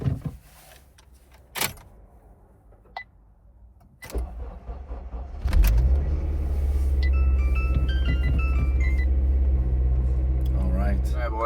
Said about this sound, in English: let's give her a first start after 3 months